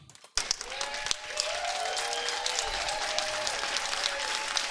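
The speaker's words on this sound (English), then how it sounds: "are hearing the applause as the 3rd event final has just wrapped up" Sustained applause from a crowd after the third event final of a men's 2020 match, rising sharply after a brief quiet start and continuing steadily throughout, dense and fairly loud.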